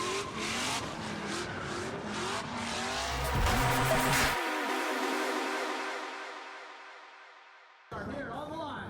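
A Ford Cruiser RX-7 drift car at a drift competition revs hard with tire squeal, a loud, rising engine note sustained across the run and briefly cutting out before returning, with a voice speaking over it.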